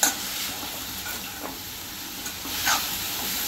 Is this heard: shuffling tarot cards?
no